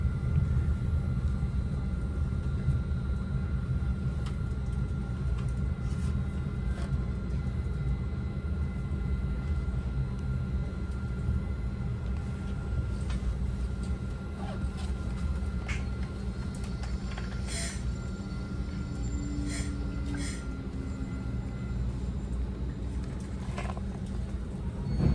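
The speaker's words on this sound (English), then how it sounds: "Here we are pulling into San Mateo Station to make our scheduled stop." Low rumble of a Caltrain commuter train rolling slowly into San Mateo Station, with faint squeals and clanks over a steady drone, heard from inside as it eases to a stop.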